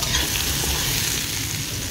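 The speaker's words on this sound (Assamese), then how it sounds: "অকণমান সময় ভাজি ল'ব লাগিব বাঁহৰ গাজখিনি" Bamboo shoots and local fish fry in hot oil with turmeric and salt, a loud, steady sizzle with faint stirring scrapes close by.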